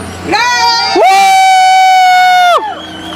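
A MayDay rally crowd in New York cheers loudly, with a long sustained shout rising from the group and strong voices whooping together over a background murmur.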